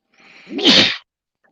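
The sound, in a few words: sneeze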